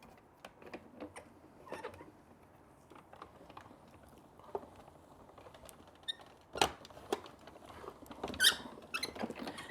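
A paper die crunches and clicks through the rollers of a die-cutting machine, with faint irregular creaks, squeaks and sharp ticks scattered across a quiet background, and no voices over it.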